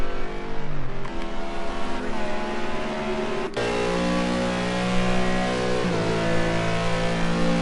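GT race cars at Silverstone in a British GT round: loud high-revving engines wailing through gear changes, one car passing close with a sharp shift in pitch midway, steady roar throughout.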